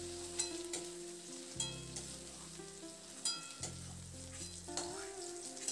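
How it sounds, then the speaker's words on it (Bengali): Potatoes and ivy gourd fry in hot oil with a quiet, steady sizzle, broken by soft scraping and clinking stirs at intervals, close by and without speech. "আলু আর কুঁদরিটা দেখুন খুব ভালো করে আমি ভাজা ভেজে নিয়েছি।"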